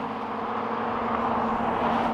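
An Audi RS4 in a drag race holds a steady, loud engine roar as it accelerates through a gear change, a sustained broadband drone with a strong low hum and no voices.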